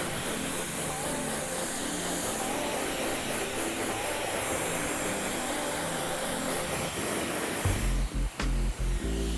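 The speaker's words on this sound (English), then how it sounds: "Now you can begin to pop a nozzle on your dryer" A hair dryer blows steadily through hair in a salon styling session, a loud continuous whooshing roar that holds for most of the time before shifting abruptly near the end, with faint voice in the background.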